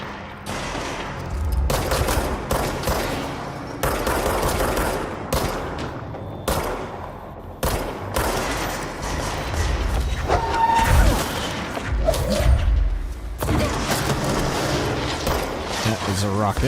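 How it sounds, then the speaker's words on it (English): Gunfire in the action-adventure video game Control, loud bursts of rapid shots and heavy booms coming in clustered volleys with short gaps between them, with a voice talking over the fighting. "I hear gunfire."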